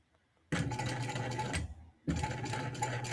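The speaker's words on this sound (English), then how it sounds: "I am going to baste that just at the end so that I know it's connected" A sewing machine basts a D-ring onto a handmade bag in two loud, steady bursts of stitching, separated by a short pause.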